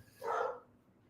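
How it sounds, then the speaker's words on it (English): A single short dog bark sounds off in the background, faint and brief in an otherwise quiet room. "Dogs are going nuts."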